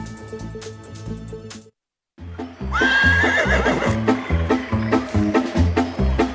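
A wedding mare neighs loudly and close, with a long whinny after a short pause, over steady clip-clopping hooves and rhythmic music-like background beats throughout.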